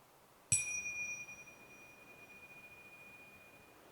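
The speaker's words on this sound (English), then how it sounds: "then I will ring the bell to indicate the beginning and also the end of the" A single meditation bell is struck once, a clear close ring that then hangs as a long, pure tone, slowly fading in a quiet room.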